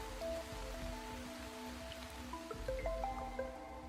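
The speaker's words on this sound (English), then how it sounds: "it was pouring." Rain patters and drips on surfaces at a quiet outdoor pool in bad weather, soft and steady with scattered tonal background sounds.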